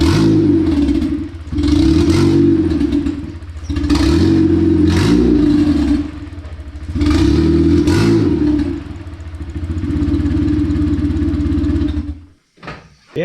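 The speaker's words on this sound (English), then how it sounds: "I basically just pop the clutch multiple times so you can see how much the engine doesn't move." K-swapped Mazda truck engine heard up close as the clutch is popped again and again: loud rumbling surges that rise and fall in repeated waves and end with clatter and a sudden drop.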